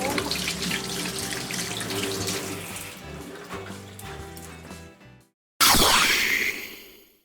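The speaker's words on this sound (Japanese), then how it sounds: "シャワー。" Running water from a kitchen faucet with a switchable water purifier gives a steady rushing flow. It stops briefly, then the shower spray setting starts with a louder hiss that gradually fades.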